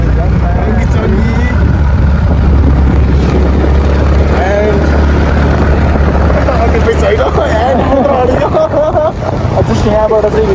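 A motorbike rides into Thamel at night. A loud, steady low engine and road rumble runs beneath busy street hubbub and nearby voices talking throughout.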